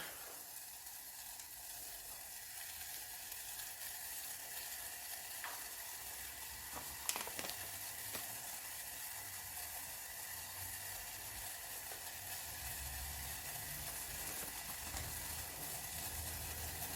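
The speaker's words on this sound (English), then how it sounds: "let that get boiling" Steady hissing and sizzling from a pot of liquid heating toward a boil on a stove, a constant close roar with a faint clink partway through.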